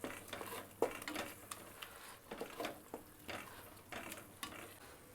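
Ground masala paste sautéed in a pan for veg kuska, heard as a soft, quiet sizzle with intermittent spatula scrapes and light clinks, close by and without talk.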